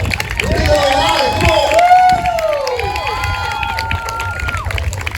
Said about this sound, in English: So give a round of applause for the Indigenous Peoples Day flag flying at City Hall